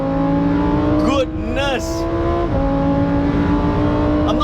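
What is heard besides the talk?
Lamborghini Huracan STO engine revving on the back straight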